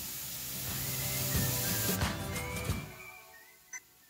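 Turmeric added to a tomato, onion, ginger, garlic and green chilli paste sizzles and hisses steadily in a hot pan, with a few stirring scrapes and a brief clink near the end.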